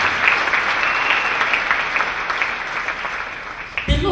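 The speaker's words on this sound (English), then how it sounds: "Clap for Jesus Christ." A church congregation applauds in steady, dense clapping that fills the room, then stops abruptly as a voice starts.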